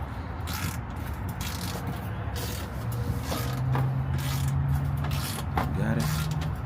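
Glove box being worked loose and pulled from a 1984 Chevrolet C10 cab, with a steady run of scraping, rubbing and ratcheting mechanical noise, near and fairly loud, under brief low talk.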